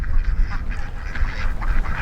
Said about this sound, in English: It's a duck crossing right here.